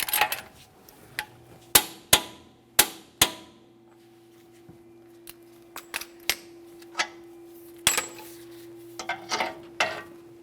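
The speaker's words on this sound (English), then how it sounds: "To torque the axle nut, first we're going to torque it to 244 foot-pounds." On a GMC Acadia, a torque wrench tightens the front axle nut with a series of sharp metallic clicks and clanks at uneven intervals over a faint steady hum, some hits close and loud, others softer.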